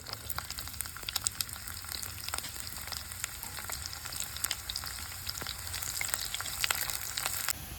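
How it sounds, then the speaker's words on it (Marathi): Whole spices and sliced onion fry in hot oil, making a steady close sizzle with crackling pops and a few light spoon scrapes, with no voices over it. "आपण हे खडे मसाले याच्यामध्ये ते गरम तेलामध्ये घालूया एक उभा चिरलेला कांदा"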